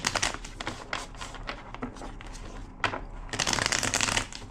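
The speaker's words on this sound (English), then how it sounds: "Two more shuffles." Tarot cards shuffled by hand in a close series of crisp riffling bursts, loud and near, with brief pauses between shuffles and no talking.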